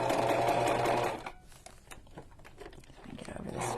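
A sewing machine stitching fabric for a journal cover runs in a loud, fast whirring burst, then stops while someone talks and handles the material.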